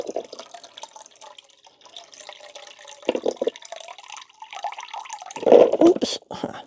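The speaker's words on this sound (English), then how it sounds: "There's that pot of water. I pour the water out into it." Water is poured from a pot into a container of anemone corms in a seed room, making intermittent splashing and trickling that swells into a louder gush near the end, close by.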